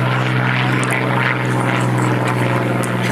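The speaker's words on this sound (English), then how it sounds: "the Hurricane concludes its part of the solo display with the barrel roll" Loud, close roar of a Hawker Hurricane propeller fighter performing a solo airshow display at the Kemble Battle of Britain Airshow, with a droning engine and throbbing airscrew sustained throughout.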